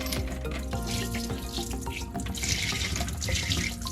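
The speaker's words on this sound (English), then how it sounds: "Just ran clean hot water over the top of that" Hot tap water runs steadily over spent rifle brass cartridge cases in a container, a loud continuous gushing splash with rattling undertones, close and uninterrupted, no voices.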